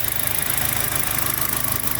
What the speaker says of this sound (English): The engine's running pretty well.